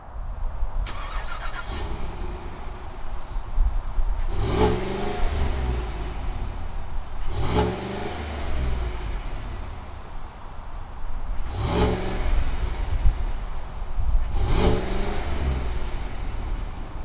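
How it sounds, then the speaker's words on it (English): A 2020 Cadillac Escalade ESV engine starts and runs, a low steady rumble with several loud surges of revving repeating every few seconds. "let's go ahead and fire up this Escalade and see what it sounds like"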